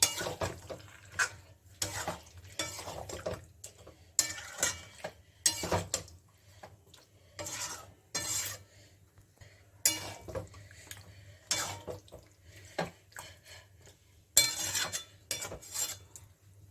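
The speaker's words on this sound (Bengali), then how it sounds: "এখন বাকিটা চিকেনের সঙ্গে কষানো হবে" Chicken being sautéed and stirred in a pot for a potato chicken curry, with repeated metal spoon scrapes and clinks against the pot in irregular bursts over a low steady hum.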